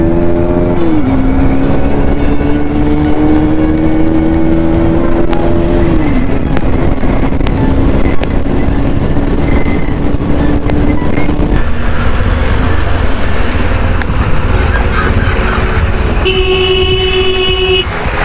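A motorcycle rides along and accelerates, its loud engine droning steadily throughout with rising and falling pitch as it speeds up, while horns toot from passing traffic nearby and a higher horn blast sounds near the end.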